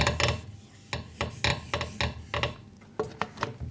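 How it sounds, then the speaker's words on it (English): Writing being wiped off a classroom board in a series of rough, rasping rubbing strokes, close and fairly loud, about ten bursts with short pauses between them, no talk over it. "I'll rub this because we don't need it now."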